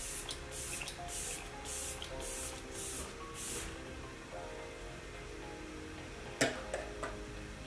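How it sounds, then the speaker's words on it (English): Morphe Luminous Setting Spray misted onto a face during a makeup routine, five close, soft hissing bursts in quick succession, then quiet with a couple of faint clicks. "So I'm gonna go on with my Morphe Luminous Setting Spray."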